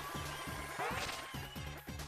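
A quick comic miss sound effect from the video game Paper Mario: The Thousand-Year Door, a short swooshing whip over a bouncy repeating game music loop.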